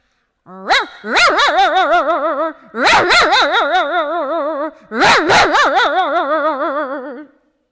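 A performer's voice imitates a house dog barking at a visitor at home, with three long, loud bursts of close, wavering barks and howl-like yelps separated by brief pauses.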